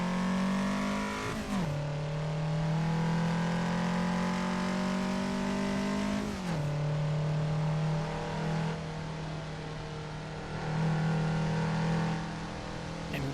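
A race car engine in the racing game Assetto Corsa holds a loud, steady drone, dipping sharply at gear changes and climbing again as it revs, close and continuous throughout.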